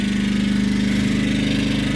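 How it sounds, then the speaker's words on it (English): A Yamaha generator runs barely above idle while powering a Pioneer 9000 BTU 110-volt mini split air conditioner, giving a steady, close engine hum with a low rhythmic throb throughout. "The Yamaha is barely above idle."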